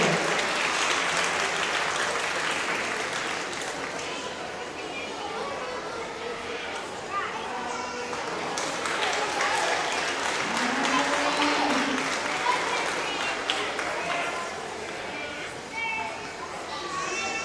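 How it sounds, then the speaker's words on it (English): Audience clapping steadily at a county fair sheep and goat show, a broad sustained applause with children's voices and crowd chatter mixed in throughout. "Give them all a big round of applause."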